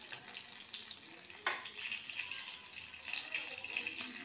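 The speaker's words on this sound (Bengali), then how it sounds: "রাঁধুনি দিয়ে ফোড়ন দিলাম।" Radhuni seeds, a dry red chilli and a green chilli crackle and sizzle in hot oil, a steady close hiss with a sharp pop near the middle and no talk.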